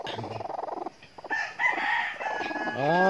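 A rooster crows loudly nearby, a long rising and falling call, after a run of rapid clucks from a broody hen sitting on eggs and pecking, and brief murmured talk.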